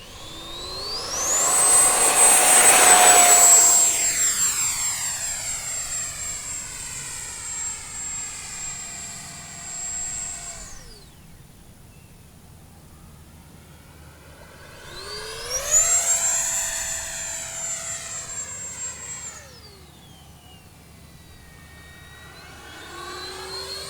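An E-flite Viper 64mm EDF model jet at full throttle makes two loud high-speed passes. Its shrill ducted-fan whine rises and falls in pitch as it sweeps close by, fades away, then screams past again.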